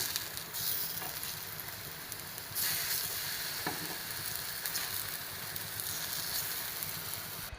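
Bananas fry in hot oil in a pan, a steady loud sizzle with occasional scraping clicks as the pieces are stirred and turned, close and continuous without talk.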